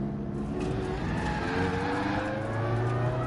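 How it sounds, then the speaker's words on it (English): A GT4 race car in a racing video game closes in from behind, its engine note rising in pitch with layered harmonic whine and a brief tire squeal, loud and near, with no talk. "we just keep ourselves out of the way a minute whilst this next car comes down from behind"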